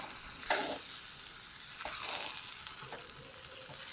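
Tamarind pickle with a splash of vinegar being stirred in a pan, a steady soft sizzle with a few scraping knocks of the spoon against the metal, close and moderately quiet, no voices.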